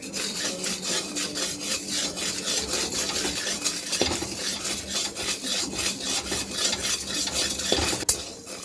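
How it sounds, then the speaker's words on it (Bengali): Salt dry-roasting in a pan for a spicy-sour raw mango pickle, stirred with a utensil that scrapes steadily against the metal in a continuous gritty rub, close and alone, with a sharper clink near the end. "এখন ভেজে নিচ্ছি লবণটা"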